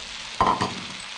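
Spices, ginger and leeks hit a hot pan for a stir-fry: a short burst of sizzling and stirring, loud at first and then easing back into a soft, steady background hiss.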